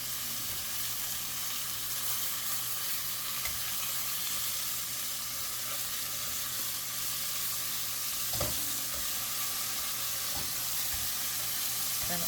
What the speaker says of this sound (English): Now what we're gonna do is sear all sides.